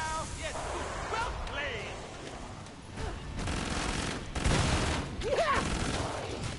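Gunfire in a PS5 zombie shooter comes in repeated rapid bursts and single cracks, fairly close and loud over game ambience, with a player talking in between shots.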